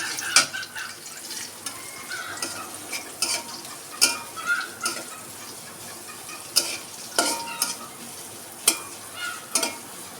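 Onions frying with green chillies in a pan, a soft continuous sizzle broken by repeated sharp scrapes and clinks of a spatula against the pan, close and without speech.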